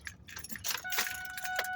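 Keys jangling close by as a truck is started, a bright metallic rattle building into a steady hum of the engine and ignition.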